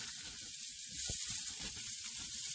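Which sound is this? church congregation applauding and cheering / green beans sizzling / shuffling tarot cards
green beans sizzling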